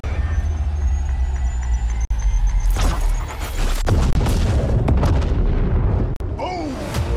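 A grenade blast in Apex Legends Mobile lands as a loud, booming explosion near the middle, preceded by engine-like rumble and followed by crackling debris and further bursts, with brief voices.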